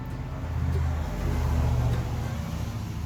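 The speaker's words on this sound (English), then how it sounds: "Now the little motor's turning." A small electric motor spins inside a Christmas light projector, turning a little disc; a steady low hum runs continuously and fairly loud, close by, with no talking.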